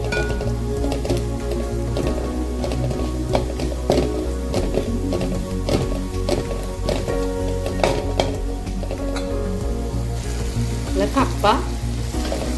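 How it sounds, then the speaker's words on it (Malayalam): Chili powder and masala powder fry in a pan for kappa masala, a steady close sizzle broken by repeated clinks and taps of a spoon stirring; a word is spoken briefly. "ഫ്രൈ ചെയ്തെടുക്കാം."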